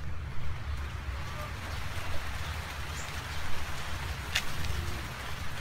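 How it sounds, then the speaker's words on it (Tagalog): Rain falls outdoors as a steady soft hiss with low rumbling background, moderately loud and continuous, with a faint sharp tick or two standing out briefly. "Umuulan."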